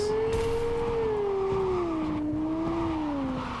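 A car in Cyberpunk 2077 drives and accelerates, its engine holding a steady loud hum that rises and dips in pitch across the whole stretch with no talk.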